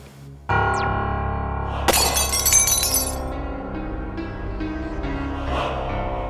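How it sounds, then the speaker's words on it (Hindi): A glass mannequin shatters with a sudden loud crash and bright tinkling of breaking glass over a sustained dramatic musical drone, the fragments ringing for about a second before fading under the continuing music. "कांच का पुतला टूटा"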